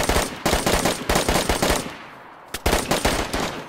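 Rapid bursts of automatic gunfire in Green Base PvP multiplayer combat, loud and close, with a short pause before another sustained volley.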